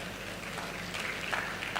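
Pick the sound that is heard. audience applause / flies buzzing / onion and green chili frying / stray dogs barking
audience applause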